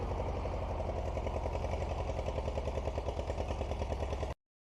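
A 1948 Case VA tractor, a small 13-horsepower machine, runs at a steady idle with an even, rapid clattering pulse, close and unbroken until it cuts off abruptly.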